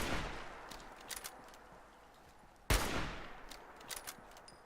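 Enemy gunfire in the Fallout 4 video game, scattered sharp cracks and one loud close shot with a decaying echo, mixed with distant rapid pops.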